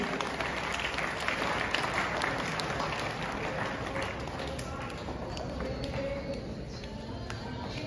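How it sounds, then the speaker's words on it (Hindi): A crowd applauds steadily, many hands clapping in a dense, sustained roar that eases slightly toward the end. "तालियों से स्वागत कीजिए।"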